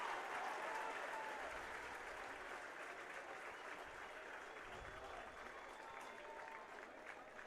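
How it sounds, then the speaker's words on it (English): A crowd at a high school boys' baseball state championship game cheers and applauds steadily, a broad sustained roar from the stands heard at a distance, with faint commentary underneath. "Listen to this crowd."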